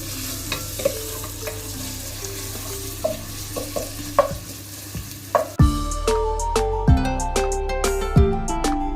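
Onions fry and are stirred in oil in a pot as the base for rainy-day khichuri with beef. A steady sizzle runs under repeated scraping strokes, and bright metallic ringing tones join in the second half.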